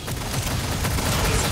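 Honeycomb guns firing in a video game, a dense continuous burst of rapid gunfire filling the whole moment without any talk.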